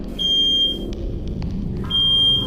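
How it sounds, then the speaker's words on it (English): A smoke alarm shrieks with a steady high-pitched tone, sounding in two bursts with a short gap between them, loud and close over a low background rumble inside a home. "Just woke up to smoke alarm."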